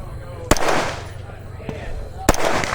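Two sharp gunshots about two seconds apart at an outdoor practical shooting competition, loud and close, with a range officer calling commands between them.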